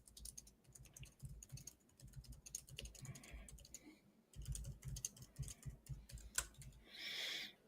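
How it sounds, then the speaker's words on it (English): Close typing on a computer keyboard during a rich text editor demonstration, with rapid irregular key clicks in bursts, a brief pause midway and a louder final flurry. "So let me just start typing something."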